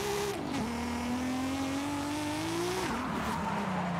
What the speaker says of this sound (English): Wow, this thing really slides.